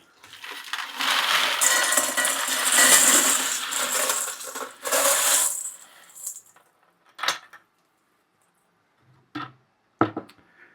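Silver shot pellets pour from a shot bucket into a bowl in a long, dense metallic rattling cascade that tapers off, followed by a few scattered clinks of stray pellets near the end.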